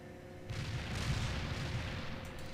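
Grenade explosions in the World in Conflict war video game roll out as a dense, sustained rumble of booming blasts, loud and continuous over a few seconds without clear breaks between hits.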